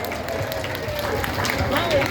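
Applause from a crowd at a Kedayan cultural evening performance, a continuous clatter of clapping mixed with voices and cheering, steady and fairly loud.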